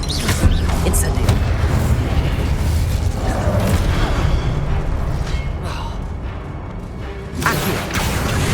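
Incendio fire spell cast in Hogwarts Legacy: a loud burst of flame with booming, crackling fire and magical effects that swell and then fade, followed by another sudden burst near the end, over constant game ambience.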